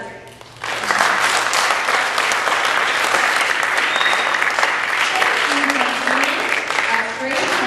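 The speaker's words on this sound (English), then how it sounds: "let's just get some applause out of the way right now" An audience at a school alumni advice event for a graduating class breaks into steady, sustained applause that starts abruptly and fills the room at an even level, with a few faint voices mixed in.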